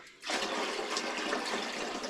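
Water poured from a container into a large engine oil pan sitting on a workbench, a loud continuous splashing gush that starts abruptly after a brief quiet moment and keeps flowing steadily.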